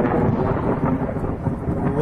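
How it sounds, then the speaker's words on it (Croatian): Thunder rumbling during a rainstorm at an outdoor holiday apartment area, a dense, continuous low roar filling the whole moment with steady rain noise layered on top, loud and close, with no voices. "Op, evo sad će da rokne i grom."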